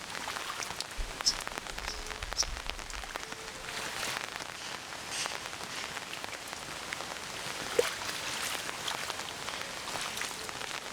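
Steady rain falls on a rainy day, a dense continuous hiss with scattered louder drops and a few brief low thumps near the start, with no voices.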